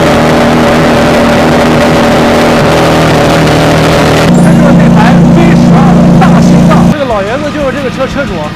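A Maserati MC20 supercar with quad exhaust tips starts up and revs hard, a loud, dense engine roar holding steady before dropping to a rougher, fluctuating idle as people talk nearby.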